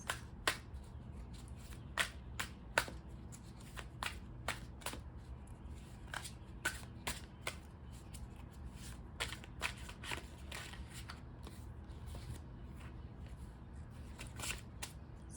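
Tarot cards being shuffled close by, soft repeated riffles and sharp flicking snaps at an uneven rhythm, fairly quiet, with no talking.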